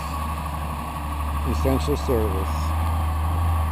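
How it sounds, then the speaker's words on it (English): A big tractor passing by on a trail, a steady close low engine rumble that swells slightly, with someone speaking briefly over it. "And there goes the big tractor."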